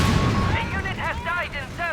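A satchel charge explodes in Company of Heroes 3, giving a loud broad blast right at the start that decays into a lingering rumble. Sweeping, voice-like tones follow over it.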